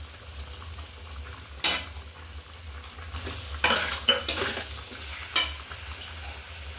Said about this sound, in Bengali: হলুদ গুঁড়ো, দিয়ে আবার কষিয়ে নেব।